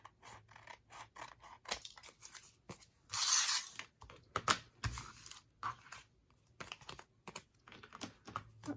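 Quick crisp snips of scissors cutting crunchy paper to the size of a tag, irregular clicks and rustles with one longer, louder cutting burst partway through.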